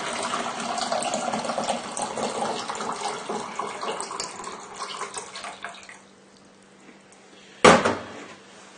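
Water is poured back into a measuring jug in a steady splashing stream that tapers off, followed after a short quiet gap by a single sharp knock as the jug or container is set down; close, with no talking.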